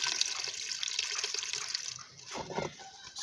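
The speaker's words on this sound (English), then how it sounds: "I want to put some water to make tea." Water running from a tap into a cooking pot for tea in an African village kitchen, a steady hissing splash that cuts off, then a brief sloshing after, close and moderately loud.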